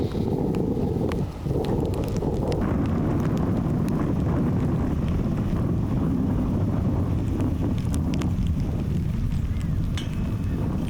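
Wind buffets a microphone on an outdoor disc golf course, a constant heavy low rumble and roar with gusty variation, faint voices occasionally beneath it.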